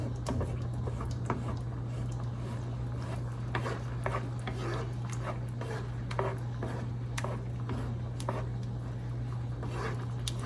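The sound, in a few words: stirring a chicken piccata mixture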